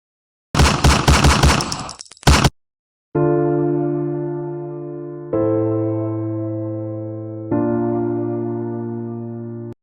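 A loud burst of gunfire sound effect rattles for about two seconds, then cuts to silence before three sustained, ringing musical tones step in one after another.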